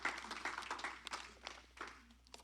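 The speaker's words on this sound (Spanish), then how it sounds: "Denle un aplauso." A church audience applauds, giving a faint, brief spatter of clapping that fades over a couple of seconds.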